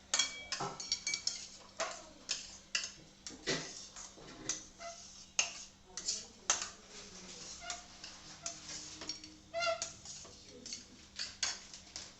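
Semolina being stirred and roasted in a pan over medium heat, the spoon scraping and clinking against the metal in steady, repeated strokes, close and fairly quiet, with no talk.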